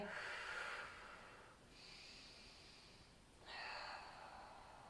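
A person breathes deeply during a yoga stretch: a long, airy inhale, a quieter pause, then another breath beginning, all soft and close.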